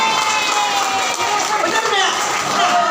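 A crowd at a cheerful therapy gathering in Pamulang claps together, a sustained, fairly loud wash of applause with voices and chatter mixed underneath.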